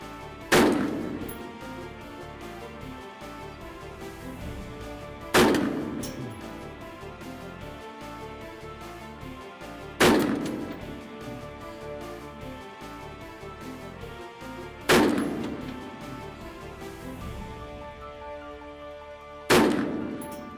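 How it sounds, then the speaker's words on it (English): Gunshots at a shooting range during a timed course of fire at a small target and a human silhouette, five loud single reports spaced about five seconds apart, each trailing off into a short echo. "You're gonna shoot 5 at the small and 5 at the human silhouette at the unknown distance."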